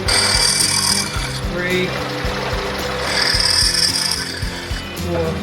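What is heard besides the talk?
drilling clearance holes for 6-32 screws in metal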